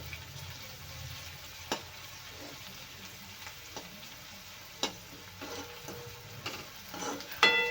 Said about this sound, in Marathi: मी लसण ठेचून घेतलं आहे छान तर हे पण फ्राय करून घेऊया तेलामध्ये